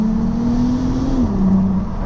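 Bentley Continental GT W12 in sport mode pulling hard after a downshift, a loud steady engine drone heard from inside the cabin, its pitch rising slightly then dipping as the gear changes, with no talk.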